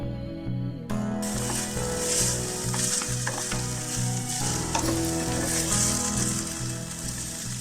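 Grated sweet potato frying with green chilies and curry leaves in hot oil, a close, steady sizzle with bursts of stirring and crackle throughout; no talking.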